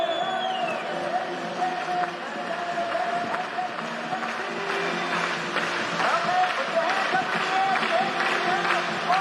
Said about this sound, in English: Clap those hands